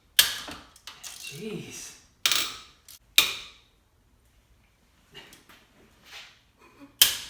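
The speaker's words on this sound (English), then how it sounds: "Break my ratchet, I guess." A ratchet wrench works a stuck bolt on a Mustang during AC removal, giving scattered bursts of clicking and creaking separated by pauses, with a brief exclamation from a voice.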